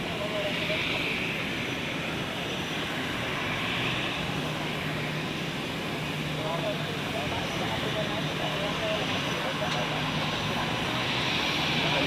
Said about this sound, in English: the Edelweiss A320 taxiing to the parking